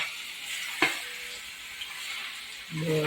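Potato pieces sauté slowly in hot oil for dabeli, giving a steady soft sizzle throughout with one sharp utensil clink partway and a brief louder stir near the end.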